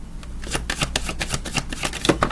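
Tarot cards being shuffled close up make a rapid run of crisp riffling slaps and flutters, uneven in rhythm, with no talking.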